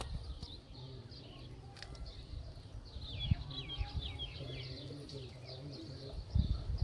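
A Sialkoti pigeon coos softly and repeatedly among faint chirps and low background rumble, distant and quiet, with occasional handling noise.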